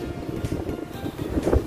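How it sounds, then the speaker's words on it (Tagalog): Big ocean waves rumble low and steady onto the shore, with wind buffeting the microphone and a swell building near the end. "Ang lalaki ng alon, oh."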